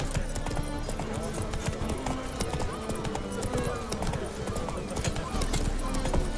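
Roach, the horse in The Witcher 3, moves along town streets with a fast, rhythmic clip-clop of hooves, joined by a brief whinny and snorts, while voices talk nearby.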